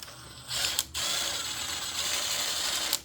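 Ratchet wrench clicking steadily as it turns bolts on a 1948 Ford flathead engine, a near, continuous metallic ratcheting with brief pauses, no talk.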